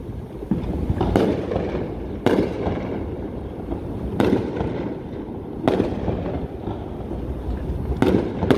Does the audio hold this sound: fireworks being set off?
yes